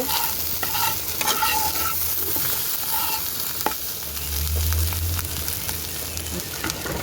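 Nigella seeds (kalonji) frying in a pan hiss and crackle steadily up close, with intermittent spatula scrapes and taps against the metal as they are stirred.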